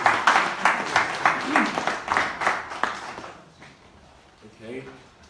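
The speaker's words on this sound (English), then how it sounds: "Round of applause," An audience at an investment summit applauds the chairman, a full round of many hands clapping loudly for about three seconds before fading out, with murmured voices heard as it dies away.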